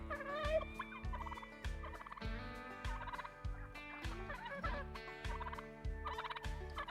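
Farm chickens gobbling and clucking loudly as they crowd in at feeding time, a dense rhythmic chorus of close bird calls with repeated low thumps underneath.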